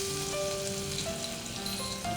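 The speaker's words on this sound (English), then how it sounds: "Once it's hot, we put jeera. And saute it for 15 to 30 seconds." Cumin seeds (jeera) and ginger-chilli paste sauté in a hot pan, a steady close sizzle with faint tonal hum in the background, continuous and moderately quiet with no voices.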